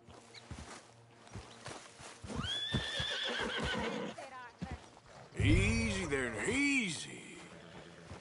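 Red Dead Redemption 2 gameplay: a horse whinnies loudly with a long, wavering neigh, preceded by clip-clopping hooves and in-game voices talking beneath.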